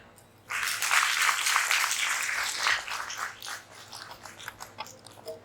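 An audience at a spiritual gathering breaks into applause, a dense burst of clapping that swells quickly, holds for a few seconds and then thins out into scattered claps.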